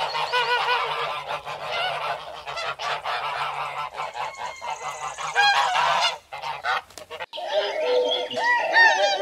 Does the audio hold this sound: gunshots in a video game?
no